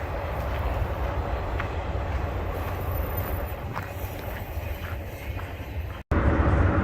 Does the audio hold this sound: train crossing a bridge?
yes